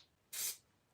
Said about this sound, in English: I'm going to spray this just off so I don't spray.